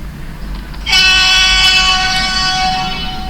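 A KP&W RDC model railcar on a layout sounds a sustained, tonal horn as it comes through town, loud and steady against a low rumbling background after a brief quieter start.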